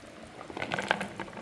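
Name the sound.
pot of dumplings, ackee and banana simmering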